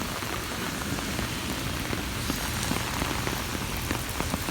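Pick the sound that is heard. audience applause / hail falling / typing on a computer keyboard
hail falling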